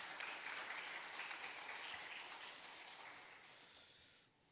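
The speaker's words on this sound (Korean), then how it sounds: "우리 베드로 남선교회를 위해서 우리 격려의 박수로 화답하도록 하겠습니다" A church congregation at a Wednesday service gives encouraging applause to the Peter men's fellowship after their hymn, a faint, even patter of many hands that tapers off near the end.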